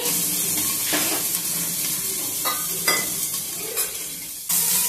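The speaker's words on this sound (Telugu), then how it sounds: "పచ్చిమిరపకాయలను కొంచెం నూనె వేసుకొని మగ్గనిచ్చుకోవాలండి।" Green chillies frying in oil in a pan, giving a continuous loud sizzle broken by a few scraping stirs of a utensil.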